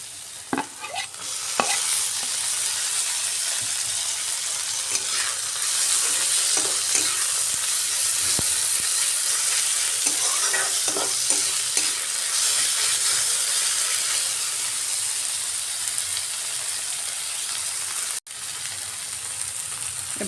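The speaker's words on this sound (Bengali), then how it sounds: "পেঁয়াজ ভাজার এই পর্যায়ে দিয়ে দিচ্ছি কেটে রাখা টমেটো।" Chopped tomatoes going into frying onions in a pan for a rohu fish curry. A steady close sizzle and hiss runs throughout, broken by occasional sharp stirring clatters, with no talking.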